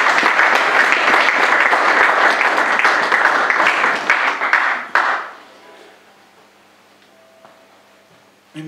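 A church congregation applauding together, loud sustained clapping for about five seconds that fades out into a quiet room.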